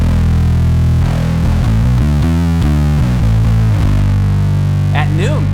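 Bass guitar played through a Boss ODB-3 bass overdrive pedal at full distortion with the dry signal blended in, loud and continuous with sustained fuzzy notes changing pitch, ending with a brief sliding squeal.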